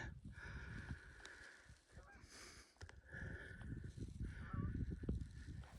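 Geese honking repeatedly as they fly south, the calls coming in uneven bursts over a low, rumbling outdoor background on a hot day.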